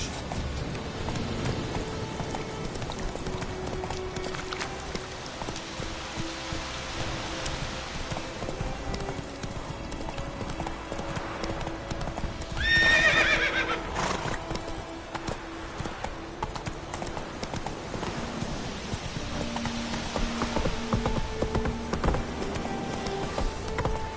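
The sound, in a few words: horse Roach galloping and neighing, from video game The Witcher 3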